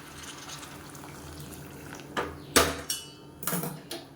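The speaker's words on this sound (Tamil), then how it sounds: "இப்போ இந்த ஸ்டேஜில் தண்ணி சேர்த்துக்கலாம் நல்லா சுடு தண்ணியாக சேர்த்துக்கோங்க" Hot water poured into a pan of Madurai-style black channa curry, a soft liquid hiss followed by a few sharp splashes and sizzles near the end, with no voices.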